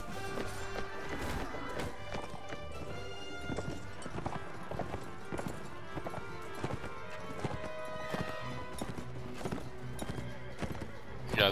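Hooves clip-clop rapidly and steadily from a galloping horse in the medieval combat game Mount & Blade: Warband, layered with game music and ambient noise, continuous throughout.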